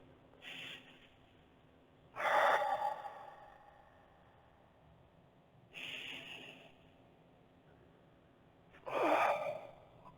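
Slow, deliberate breaths during a flexibility workout, four separate audible inhale-exhale puffs spaced a few seconds apart, close to the microphone with quiet gaps between them.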